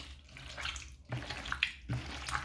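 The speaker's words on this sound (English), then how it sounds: "Now it's time to pour water over them and rinse them off all the things that I may not want on there." Water is poured over raw chicken gizzards to rinse them, giving a soft, close splashing and trickling in two or three bursts, fairly quiet and with no talking.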